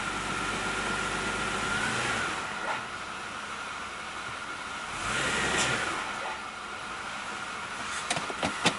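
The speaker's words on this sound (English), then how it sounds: "So if I press the gas a little bit" A Toyota/Lexus V6 engine with a low idle speed fault runs steadily, then swells briefly as the gas is pressed a little, with a dense, continuous close-up drone and faint clicks near the end.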